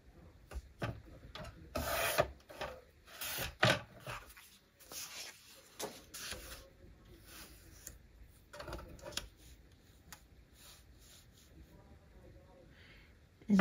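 Paper trimmer slicing sheets for a Christmas journal: a series of close rasping, rubbing strokes in irregular bursts, loudest early on, then fading to softer scrapes.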